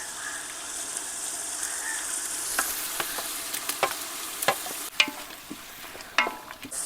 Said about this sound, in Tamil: அடுத்ததாக அரைச்சி வச்சுட்டு இஞ்சியும் சேர்த்து வதக்கிடலாம்.